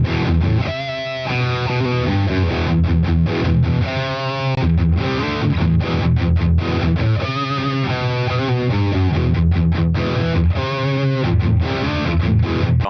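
A loud distorted cheap electric guitar with humbucker pickups plays heavy chugging riffs and sustained chords with thick high-gain tone, continuous and close, no voices.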